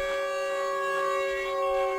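A loud, sustained siren wails through the woods in the Siren Head video game, a steady layered tone that slightly rises and falls, unbroken by speech.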